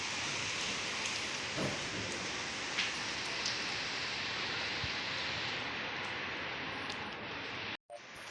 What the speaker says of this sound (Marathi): बाहेर बघा पावसाने सुरुवात केली